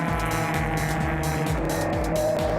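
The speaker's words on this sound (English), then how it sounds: "GSM Dart has caught on to Wayne Plitt, and they power up the hill nearly 3 abreast as Nick Parrott tries to defend" GSM Dart and Mini race cars accelerating hard up a hill nearly three abreast, a loud, continuous multi-engine roar with repeated rising gear-change sweeps and no pauses.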